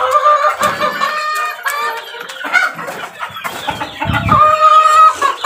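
Chickens cluck and a rooster crows at feeding time, several birds calling close by in overlapping bursts over a few seconds.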